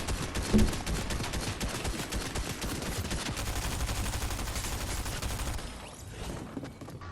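Rapid gunfire in the video game Fortnite rattles on in dense, continuous bursts for several seconds, then thins out into a few scattered shots near the end.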